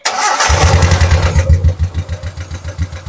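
A car with twin exhausts and a loud, megaphone-like muffler cranks and fires up, then settles into a strong, rhythmic throbbing idle close by.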